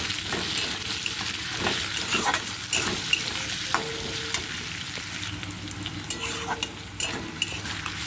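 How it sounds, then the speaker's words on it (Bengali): Diced potatoes fry with ginger and garlic in a pan, a steady dense sizzle running throughout, close and fairly loud, with occasional scrapes and clinks of a spatula stirring. "একটু লাল লাল করে আলুটা ভেজে নিয়েছি"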